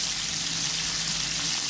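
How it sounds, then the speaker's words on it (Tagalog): Buffalo dry meat frying in hot oil, a dense steady sizzle heard close up and alone, with no pauses. "prito na natin ang ating buffalo na dry meat."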